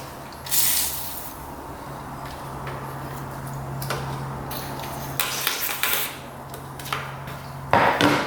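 Spray from a can hisses in several short bursts onto an ATV being repaired, sharp bright spurts separated by pauses over a faint steady hum, with a louder burst near the end.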